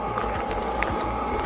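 A Chinese Webasto-style diesel air heater runs inside a camper van, giving a steady, even whirring roar with a low rumble that holds constant throughout, no voices over it.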